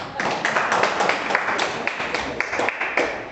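A church congregation claps together in a quick, even burst of applause, close and fairly loud, holding steady for a few seconds with no voices on top.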